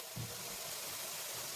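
Chopped onions frying in a pan for a chicken curry, giving a steady, even sizzle and hiss that runs throughout at moderate level with no talk.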